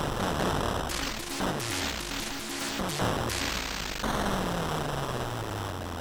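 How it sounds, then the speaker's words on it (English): Rapid synthetic explosions and blasts from the video game Smash TV on the Amstrad CPC crackle over a constant noisy hiss, with descending electronic tones sweeping down between bursts. "then you destroy him with lots of explosions"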